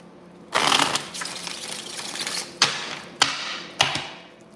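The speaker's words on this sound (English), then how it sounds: "One more shuffle." A burst of riffling tarot card shuffling followed by three sharp taps or snaps of cards being squared, close and fairly loud, no voices.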